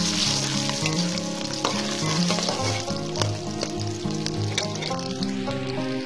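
Whole garlic cloves frying in oil in a pan while cooking Champaran-style chicken, a loud continuous close sizzle and crackle with occasional stirring scrapes.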